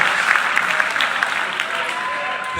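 Church congregation bursts into steady, fairly close applause that lasts a few seconds, with some indistinct voices blended into the clapping.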